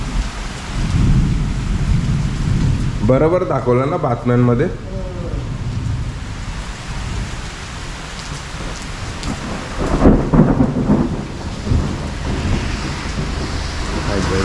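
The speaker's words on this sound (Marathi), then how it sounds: "ढग गडगडत आहेत" Thunder rolls low and long through a pre-monsoon April rainstorm in Konkan, under a constant hiss of heavy rain, while a person speaks briefly over it.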